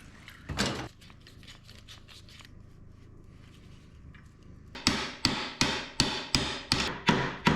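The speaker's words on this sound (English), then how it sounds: "You always want to put the nut back on before you hammer on that stud" A hammer strikes a stud on an old Kubota diesel tractor, first a couple of isolated knocks, then a steady run of about eight loud, evenly spaced metallic blows, close and alone.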